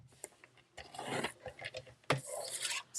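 A 6 by 6 piece of wood being trimmed to 5.25 with a cutter gives close, irregular rasping and scraping strokes in uneven bursts, with short quiet gaps between them.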